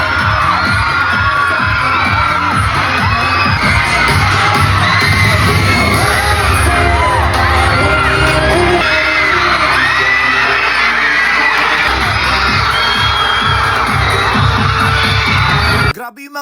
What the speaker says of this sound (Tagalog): sigawan ng mga estudyante